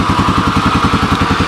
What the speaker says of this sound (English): I don't know if you guys can hear that idling in the background,